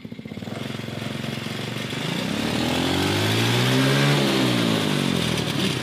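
A small engine on a three-speed offroad go kart revs up loud and close, its pitch climbing steadily, then levelling off and dipping slightly as it keeps running.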